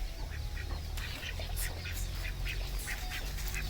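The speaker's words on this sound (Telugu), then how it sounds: "బాతులు చూడండి" Ducks quack under trees on a family farmhouse, a group sending out repeated bursts of nasal quacking over a steady outdoor background hum.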